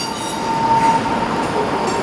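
A passenger train, likely bound for Aberystwyth in Wales, rumbles past steadily and fairly close, with a faint wheel squeal on the rails and no talk.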